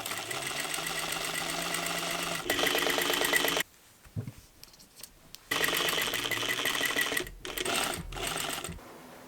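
A sewing machine stitches a seam on a bustier dress, running in steady loud bursts close by, with a short quiet gap of small handling noises midway, no talk.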